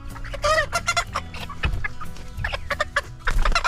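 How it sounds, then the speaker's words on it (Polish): Several Cochin bantam chickens clucking and squawking close by in irregular bursts, with one louder, higher call early on. "Kolejna kurka czy kolejny kogut?"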